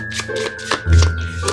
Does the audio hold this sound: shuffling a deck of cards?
yes